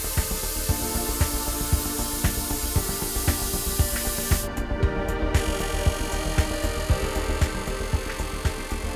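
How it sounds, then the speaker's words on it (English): A bubble jet spray system in a RAYS forged wheel factory hisses steadily as it coats a wheel's design face with solvent, with quick rhythmic pulses running through the spray. "a bubble jet spray system is used to apply a second coating of solvent onto the wheel design face"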